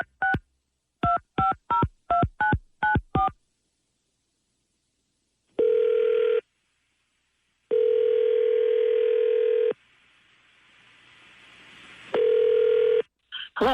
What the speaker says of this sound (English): We'll dial the number.